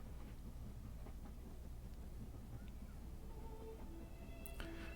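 Steady rumbling train ride in a mystery adventure game, a continuous low rolling drone with faint rattles throughout, a brief higher squeal near the end.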